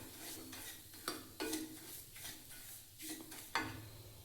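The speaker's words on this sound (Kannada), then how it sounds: "ಈ ರವೆನ ಮೀಡಿಯಮ್ ಫ್ಲೇಮಲ್ಲಿಟ್ಟು ಚೆನ್ನಾಗಿ ಹುರ್ಕೋಬೇಕು." Semolina roasting in hot oil in a pan on a medium flame, stirred with a spoon that scrapes and taps the pan in irregular strokes over a faint sizzle, close and quiet, no speech.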